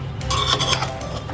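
Egg and potato dum biryani being mixed in a cooking pot, with a spoon clinking and scraping against the metal in a short close burst of stirring sounds.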